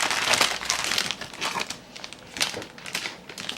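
A small cellophane packaging bag crinkles and crackles in bursts while a miniature sweets haul is unpacked, close and fairly loud, with no talking.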